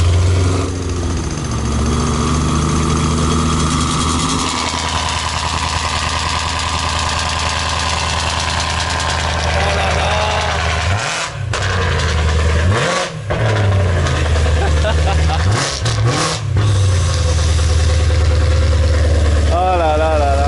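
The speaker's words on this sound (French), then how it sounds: "on va entendre le cold start de la M3" A BMW M3 idles loudly with a deep, steady rumble after a cold start. Several sharp revs punch through in the second half, and voices speak over the engine.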